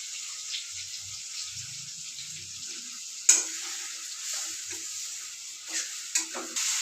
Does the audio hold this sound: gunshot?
no